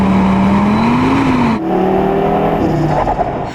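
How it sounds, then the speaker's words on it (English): An Audi RS3's five-cylinder engine revs hard and loud, its pitch climbing, then dropping sharply at a gear change before rising again, then easing off near the end. "The unique thing about the RS3 compared to some other hot hatches is the fact that it gets a 5-cylinder engine."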